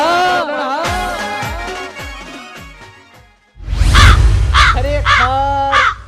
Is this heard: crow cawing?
yes